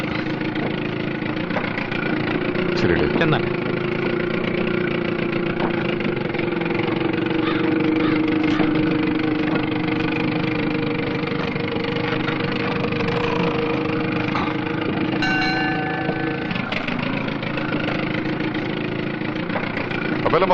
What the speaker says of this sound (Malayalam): താണ്ട ബോട്ട് വന്നു.